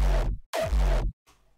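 Two deep electronic kick drum hits with extra low-end bass boosted by EQ and a strange dispersed, pitch-bending character, loud and dry with a faint trailing hit, no voices.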